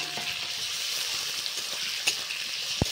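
Carrots and capsicum sizzle in a pan for chilli chicken fried rice, a steady close frying hiss with a couple of sharp ticks and a clink near the end.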